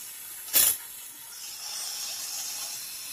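A brief sharp hiss bursts up as metal cleaner meets molten sterling silver during lost wax casting, a short loud flare that quickly dies back into a steady faint background hush.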